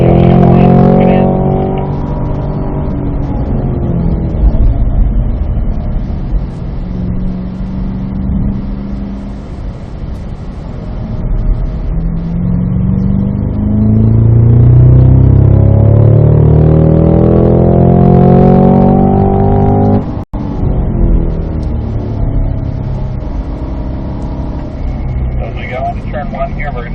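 Cadillac CT5-V Blackwing on a race track, its engine rising and falling through revs and shifts under steady instructor talk, with a louder surge near the end of the lap.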